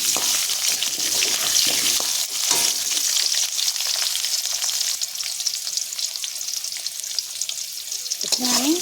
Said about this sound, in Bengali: আলুগুলো দিয়ে দিয়েছি দুটো ছোটো ছোটো আলু আমি কেটে ভেজে নেব